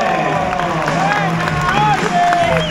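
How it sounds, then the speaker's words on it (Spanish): Podcast audience noise with clapping and cheering, a lively audience sound mixed with voices and some whoops throughout. "Un aplauso para."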